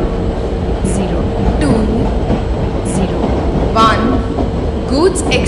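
Express passenger train in a train driving video game rolling into a station platform, a steady loud rumble of railcars with clickety-clack wheel beats and brief squeals, continuous throughout with no speech.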